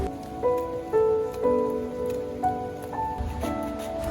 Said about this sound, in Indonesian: Sekitar pukul 11, hujan sudah mulai turun